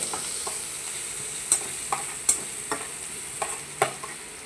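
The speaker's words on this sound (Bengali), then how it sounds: "এবারে ওই কুচানো পেঁয়াজ আদা রসুন আমি ঢেলে দিলাম" Chopped onion, ginger and garlic sizzle steadily in hot oil in a pan, with a series of sharp scraping clicks as a spatula stirs them at an uneven rhythm, close and alone without talk.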